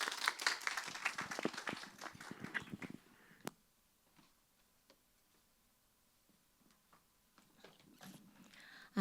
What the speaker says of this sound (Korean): 다시 한번 이 행사를 준비한 모든 분들에게 그 노고에 대한 격려와 박수를 보내드립니다.